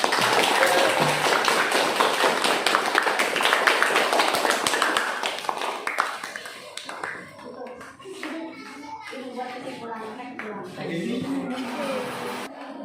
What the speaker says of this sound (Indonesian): kita beri tepuk tangan yang paling meriah